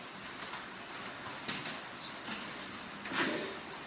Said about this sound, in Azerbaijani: Və yaz yağışı dəhşət yağır.